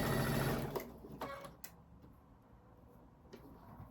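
A sewing machine stitching a tulip quilt block runs in a brief close whir at the start, then stops, leaving faint clicks and handling noises.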